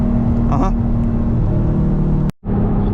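An E85-tuned Nissan 350Z Nismo pulls hard in second gear, its engine a loud, steady, close droning roar heard from inside the car, broken by a brief near-silent dip before the roar resumes, with a voice speaking over it.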